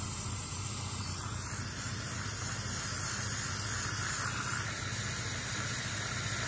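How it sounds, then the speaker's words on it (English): A Shark Lift-Away Pro steam pocket mop steaming, a steady loud hiss running unbroken and close throughout, with no talking. "this is what your steam mop does, but just on a up-close level"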